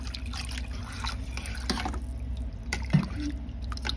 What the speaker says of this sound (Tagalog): Tapos ayan, lagyan natin uli ng tubig.